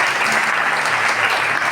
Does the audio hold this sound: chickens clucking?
no